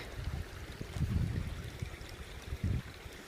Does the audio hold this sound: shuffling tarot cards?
no